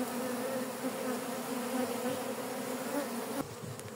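Honeybees buzz around a row of beehives in a garden, a dense, continuous hum of many insects close by with no voices, dropping slightly toward the end.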